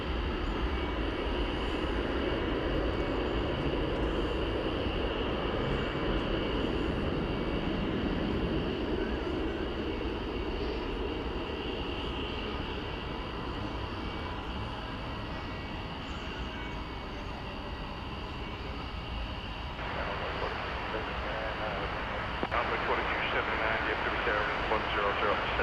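An airliner landing on runway 13 right at DFW Airport at night, a steady loud jet roar and rushing wash that shifts in tone near the end, with air traffic radio talk heard over it.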